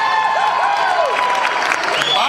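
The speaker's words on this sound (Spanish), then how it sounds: "La otra persona que quiero que den un aplauso, él se llama Juan Morales" Audience applause fills a mariachi concert, with a steady wash of clapping and some crowd cheering, while someone speaks over it on a microphone.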